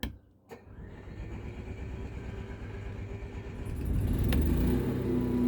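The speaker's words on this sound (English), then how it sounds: "You can hear the generator running now." Generator on a 2019 Coachman Leprechaun RV starting up and running, a steady low engine rumble that grows louder and fuller toward the end, heard up close without talk.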